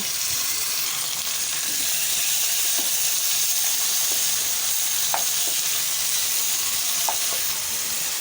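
Chicken pieces fry in ordinary cooking oil with onions, giving a steady close sizzle with occasional crackles and pops throughout, and no voices.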